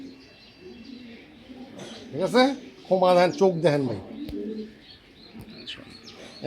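Racer pigeons coo close by in short throaty bursts while someone talks over them in a conversational voice.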